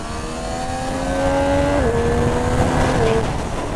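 A Triumph Street Triple 765 RS motorcycle, 2020 model, revs hard under way, its engine note climbing and dropping through quick-shifted gears, loud and close over road and wind noise.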